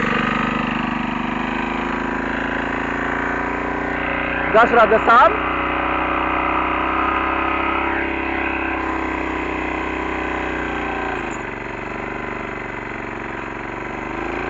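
A 6.5-horsepower single-axle walking tractor engine runs steadily throughout while working with wood, a continuous mid-pitched drone with a brief louder clatter partway through, and someone speaks over it.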